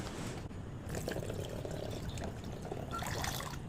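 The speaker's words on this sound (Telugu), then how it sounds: "వాటర్ అయితే ఒకసారి ఇందులో పోసుకుందామండి" Water poured into a glass, a steady gushing and trickling stream that runs continuously at close range and fairly quietly, with no speech over it.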